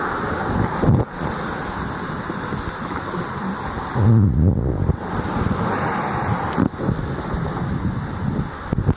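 Fast-moving water of the Lackawanna River at Olyphant rushes during Tropical Storm Isaias, a steady, loud, broadband roar with a few brief gusts of wind buffeting the microphone.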